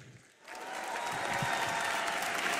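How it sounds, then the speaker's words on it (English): Applause from the Miss World 2023 pageant audience for co-host Karan Johar swells in after a brief quiet moment and holds steady as a dense, even roar of clapping. "please give a round of applause for my co-host, the iconic cinema genius, Mr. Karan Johar."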